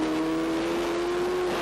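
Racing sidecar outfits at Le Mans in the 2007 FIM Sidecar World Championship sliding through double right-handers, a loud, steady, close engine drone holding a single high pitch throughout.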